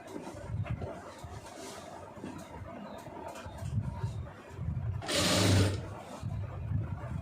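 A sewing machine stitches a side opening on a top, giving short faint runs of mechanical whirring and one louder burst near the end, with quiet handling noise in between.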